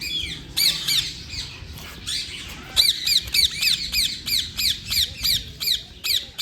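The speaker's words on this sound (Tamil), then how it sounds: "கிளி." A parrot at Vandalur Zoo squawks loudly and nearby. Its harsh calls repeat in a quick, steady series, with a few children's voices and crowd murmur faint in the background.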